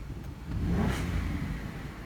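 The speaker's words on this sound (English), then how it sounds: "you're stuck with this quiet grandma exhaust" A BMW's engine revs up and settles back down, a muffled low rumble from a quiet stock exhaust, fairly subdued and steady throughout.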